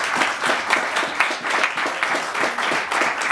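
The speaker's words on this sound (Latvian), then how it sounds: "aplausi Mārim." Audience at a Latvian gathering applauds, the clapping loud and close with a regular, pulsing rhythm as hands strike together in unison.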